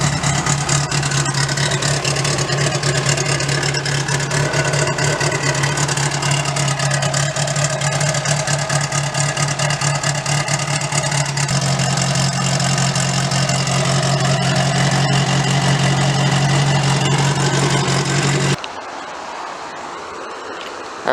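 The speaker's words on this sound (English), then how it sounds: "So all I gotta do is go get a jump box so I can start the Bug" A Volkswagen Bug engine fitted with a Maxspeedingrods turbo idles loud and close, a steady rumbling drone with a low hum that holds for about eighteen seconds before cutting off abruptly, leaving quieter background noise.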